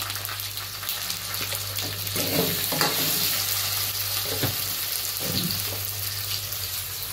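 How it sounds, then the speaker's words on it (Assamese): Potatoes frying in a pan with onions, a steady bright sizzle throughout with occasional stirring scrapes and clinks, close and fairly loud, no voices. "আলুটো অকণমান সময় ফ্ৰাই কৰি ল'ম।"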